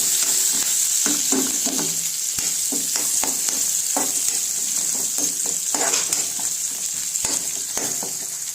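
Onion, garlic and chili being sautéed and stirred in a pan, a continuous bright sizzle broken by repeated scraping and tapping of a spatula against the pan, close and steady throughout.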